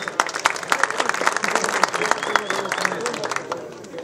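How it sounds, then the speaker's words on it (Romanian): An audience at a fight-show weigh-in in Targu Jiu gives a fighter a round of applause, with sharp, uneven claps close by and voices mixed in underneath. "Haideți să-i încurajăm cu rând aplauze!"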